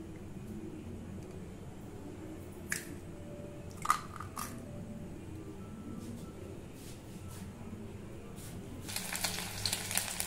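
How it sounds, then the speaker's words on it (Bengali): Marinated chicken frying in oil for garlic chicken, heard as a quiet, steady low sizzle with a few sharp pops and clatters, then a louder burst of spattering near the end. "এরপরে ম্যারিনেট করা মাংসগুলো আমরা তেলের মধ্যে ভেজে নেব।"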